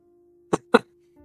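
Two short, harsh coughs in quick succession from one person, close and alone, over a faint steady hum, followed by a brief rustle.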